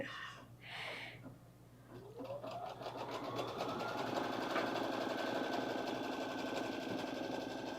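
A sewing machine starts up and settles into steady, moderately quiet stitching after a few faint thumps, its whirring motor rising in pitch as it gets going.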